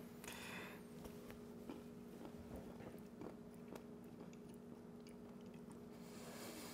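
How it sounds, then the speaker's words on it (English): A man chewing bitter raw acorns up close, giving soft, irregular crunching and squishy bites spread through the moment under a faint steady hum, with a brief breathy sound at the start and end. "Chew it up real good."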